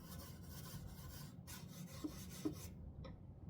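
Steel wool rubs back and forth over a varnished wooden surface in a soft, continuous rasping scrub, close and quiet, with a couple of faint tapping clicks near the end.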